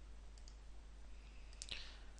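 A few faint, quick computer mouse clicks come while someone edits an article in the Joomla back end, spaced irregularly over a quiet hiss.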